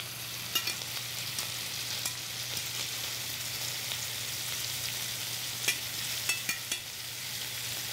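Thin veal cutlets fry in a pan with a steady, close sizzle and crackle, with occasional sharper pops and light clinks from the pan, and no talking.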